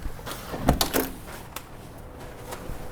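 A door opens or closes nearby with a couple of short knocks and thuds close together, followed by a softer bump, against a quiet indoor background.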